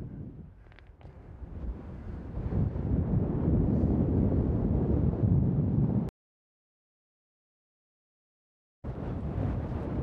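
Strong wind on a mountain ridge of Skiddaw in the Lake District roars and buffets the microphone for several seconds, drops to total silence, then gusts back in loudly.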